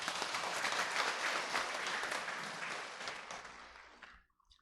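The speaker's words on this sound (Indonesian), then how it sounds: "Tepuk tangan boleh buat ajaran Buddha." Audience applause at a Buddhist talk, a dense sustained wash of many hands clapping that holds steady, then thins and fades out near the end, heard alone at moderate distance.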